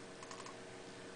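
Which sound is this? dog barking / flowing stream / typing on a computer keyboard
typing on a computer keyboard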